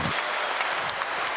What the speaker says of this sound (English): big round of applause for these guys